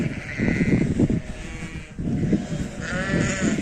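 An orphaned lamb whose mother died bleats repeatedly outdoors in a garden, several close, wavering cries separated by short pauses.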